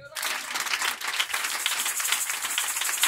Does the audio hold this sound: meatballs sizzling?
no